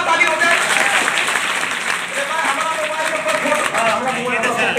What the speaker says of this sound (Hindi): बस जोरदार ताली हो जाए